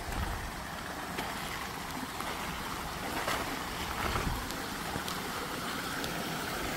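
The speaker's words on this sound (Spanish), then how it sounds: "toda esta agua pluvial o agua que nace aquí en el rancho, ahorita que llueve" Rainwater running off a ranch and pouring through a culvert: a steady, broadband rushing wash of flowing water, fairly loud and continuous with no voices.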